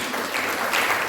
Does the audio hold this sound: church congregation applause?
yes